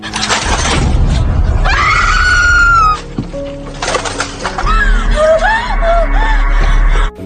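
Students scream in panic in a Korean high school drama scene, loud sustained shrieks and cries overlapping in two bursts with a short gap between them.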